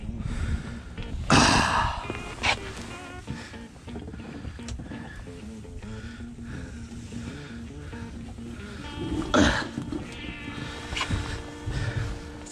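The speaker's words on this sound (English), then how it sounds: "It's a pig." Harsh grunting snorts burst out twice, loud and close, with quieter snuffling and breathing between them over a low background hum.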